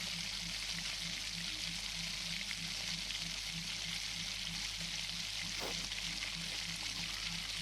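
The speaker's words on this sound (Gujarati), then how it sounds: "આ રીતે થોડી થોડી એડ કરી અને હલાવતા જવાનું છે." Vegetable paste for pav bhaji fries in a pan while being stirred, giving a steady close sizzle with faint scraping underneath and no talk.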